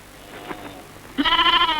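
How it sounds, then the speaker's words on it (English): Goats in a Sahara desert herd bleating, one loud wavering bleat near the end after quieter distant calls, with no voices. "Goats are scavengers."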